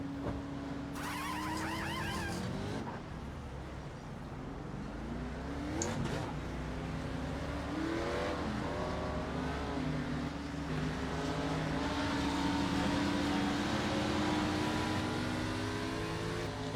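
A race car engine idles and revs steadily during a pit stop in an Xfinity racing video game, a continuous loud drone with rising and falling pitch sweeps and a brief burst of high whine near the start.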